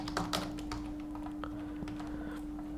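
Computer keyboard typing in irregular bursts of close, light key taps, with a steady faint electrical hum underneath and no voices.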